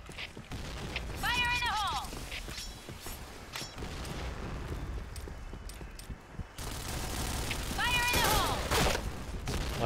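Bursts of gunfire in a shooting video game, rapid fusillades and mechanical clicks coming in clusters, with the player's voice talking over parts of the action.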